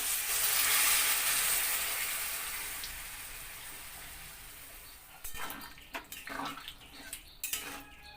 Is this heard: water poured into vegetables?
yes